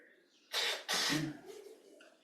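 Two loud, breathy bursts of someone blowing their nose close by, followed by faint snuffling and room noise.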